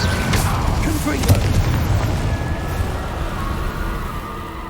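A Confringo fire spell blasting in the Hogwarts Legacy video game, a booming impact followed by crackling rumble and fading debris under a spoken incantation.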